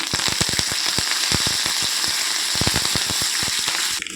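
Curry leaves crackle and spit in hot oil for the tempering of an Andhra-style gongura tomato curry, with dense rapid pops over a steady loud sizzle throughout, easing slightly at the very end.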